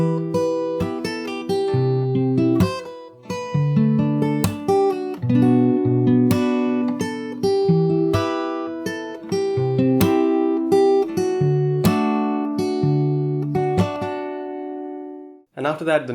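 A steady run of fingerstyle acoustic guitar playing the verse of a song, close and clear, with plucked bass notes, chords and quick strums that fade out at the end with no voice.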